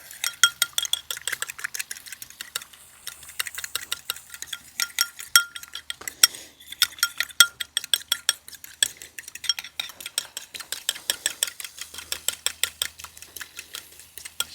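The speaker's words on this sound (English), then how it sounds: "So when you're whisking, what you want is just this movement." A whisk beats a passion fruit and olive oil vinaigrette in a bowl, giving a long run of crisp, rhythmic metallic ticks and scrapes, close and steady, with no voices.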